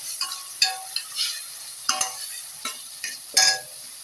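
Spice paste of turmeric and chili powder mixed with water is stirred into a pan of frying jewfish curry, with several scraping strokes and brief metallic clinks over a soft, steady sizzle.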